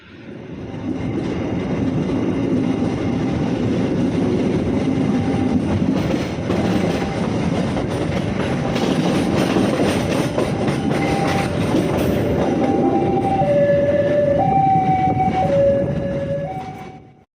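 Logawa passenger train running on rails, heard from inside a business class car: a loud, steady rumble and rattle of wheels throughout, with a sustained horn blast and tonal notes rising near the end.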